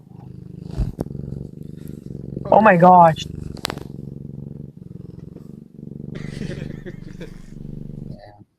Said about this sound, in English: Whose cat is that?